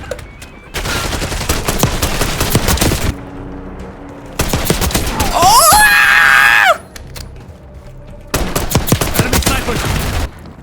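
Loud, rapid pistol shots ring out in Call of Duty Zombies in three dense volleys, with a shrill screaming burst between the second and third; a voice talks faintly underneath.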